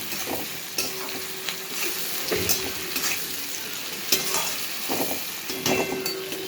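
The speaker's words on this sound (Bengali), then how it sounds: "হলুদ গুঁড়ো, জিরে গুঁড়ো, সবগুলো মেখে নিই।" Turmeric and cumin powder being stirred into a frying pan with other ground spice, a steady sizzle under repeated scraping strokes of a spoon against the pan, close and moderately loud, with no talking.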